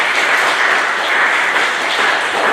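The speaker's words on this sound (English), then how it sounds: "Give him another round of applause." A crowd applauds at a Veterans Day celebration, a dense, even wash of clapping with no talk over it.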